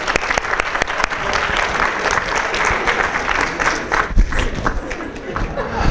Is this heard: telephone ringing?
no